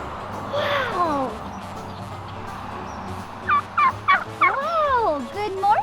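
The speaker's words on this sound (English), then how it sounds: "Hey, they have turkeys here too." Turkeys gobble on a farm, a rapid warbling burst early and then a louder, chattering run of gobbles near the end, close and clear over a low background hum.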